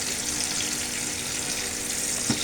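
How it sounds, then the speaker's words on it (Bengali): Catla fish pieces frying in hot oil in a pan, a steady broadband sizzle and crackle throughout with one brief louder pop near the end. "এখন অপেক্ষা করব এক পিঠ ভালোভাবে ভেজে উঠলে আরেক পিঠ উল্টিয়ে ভেজে নেব মাছগুলো"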